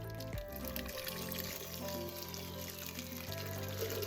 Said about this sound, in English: So I'm just gonna pour this in.